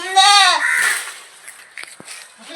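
Young goats about four to five months old, up for sale, bleat loudly up close, one long wavering cry followed by fainter bleats and scuffling.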